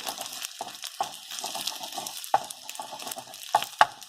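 Fried rice is stirred and tossed in hot oil, with repeated scraping strokes and sharp clicks of the utensil against the pan over a low, steady sizzle.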